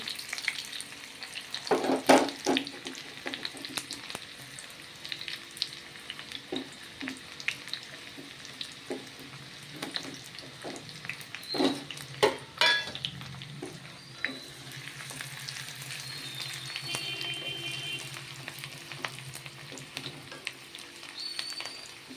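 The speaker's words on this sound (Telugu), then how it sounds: "ఇక ఫస్ట్ అయితే ఉల్లిపాయలు వేసేస్తున్నాను" Onions frying in a pan for a chicken curry with sorrel leaves, a steady sizzle broken by sharp stirring clatters and scrapes of a utensil against the pan, with no talking.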